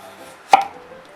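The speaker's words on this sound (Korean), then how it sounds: "지금부터 야채를 썰겠습니다" A single sharp knife chop on a cutting board, part of slicing vegetables such as lettuce, green onion, cucumber, onion and carrot, with a brief faint hum around it.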